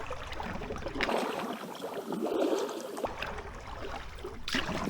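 Paddle strokes and water swishing around a small boat, picked up by an action camera: continuous close splashing and gurgling with rhythmic surges, with no talk.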